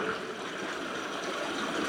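Water runs through a muddy old mine tunnel at Anyox, with knee-deep mud underfoot, making a soft, steady broadband rush with no speech.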